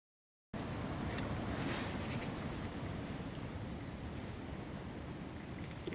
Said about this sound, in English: but the wind's frightening